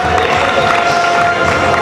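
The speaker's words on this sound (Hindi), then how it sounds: "साथियों जोरदार तालियों से स्वागत करिए" Crowd at a community festival gathering clapping and cheering in welcome, a dense continuous roar of hands and voices filling the space, loud and steady throughout.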